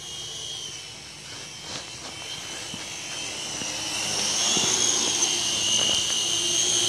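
Syma X6 toy quadcopter drone hovering indoors at about head height, a steady high-pitched whine of small rotors that grows slightly louder and nearer toward the end, with faint clicks and knocks underneath.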